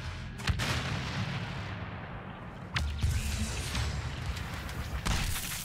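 Grenade blasts in a Star Wars shooter game, loud booming explosions and heavy gunfire rumbling close over a constant battle din, with a few sharp cracks.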